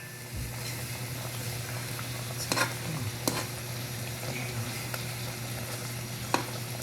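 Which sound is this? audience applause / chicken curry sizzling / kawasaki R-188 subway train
chicken curry sizzling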